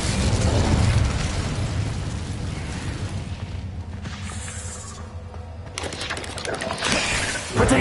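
Hogwarts Legacy combat with the Incendio fire spell gives a loud, continuous roaring burst of flame and crackle, layered with explosive impacts and a shouted spell voice.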